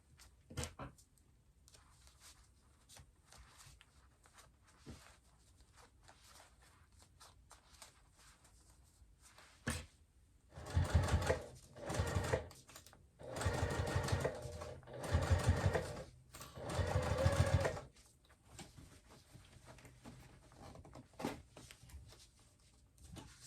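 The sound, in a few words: sewing machine stitching a zippered clutch purse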